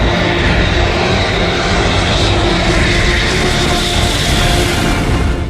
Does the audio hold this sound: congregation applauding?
no